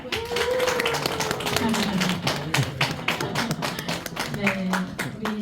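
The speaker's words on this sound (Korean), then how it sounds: "우리 고3 언니들을 위하여 박수 한번 쳐줄까요?" A church youth group claps for high school seniors at a Sunday service, a quick, uneven run of close hand claps with voices talking and calling out over it throughout.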